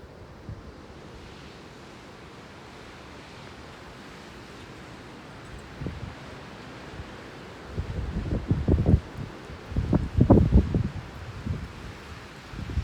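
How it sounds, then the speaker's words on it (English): Strong wind blows outdoors during a storm, a low steady rush that builds into loud buffeting gusts toward the end. "It's so windy, though."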